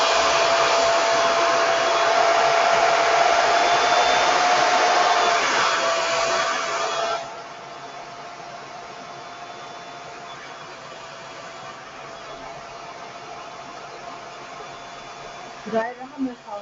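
A hair dryer blows a steady, close, loud whoosh while hair is styled with a round brush. It drops to a softer hum after about seven seconds, and brief clatters come right at the end.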